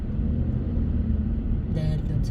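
Road traffic in Antipolo, Philippines, heard from inside a vehicle: a steady low rumble of cars and engines, fairly loud and continuous, with a brief brighter noise near the end.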